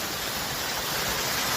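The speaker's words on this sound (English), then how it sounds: "check out this nice little waterfall flowing almost right across the trail" A small waterfall about twenty feet high pours almost across a hiking trail, producing a steady, dense rushing roar close by with no other sounds.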